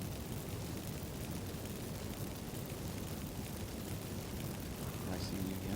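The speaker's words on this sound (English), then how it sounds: "fire shooting out of it" A burning house in The Witcher 3 roars with fire as a steady, dense rumble that stays loud and unbroken throughout.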